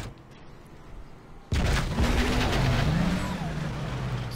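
A car drives in the video game Transformers: The Game: after a quiet stretch an engine roar starts suddenly and holds steady with a rising and falling whine, close and loud, with no talk.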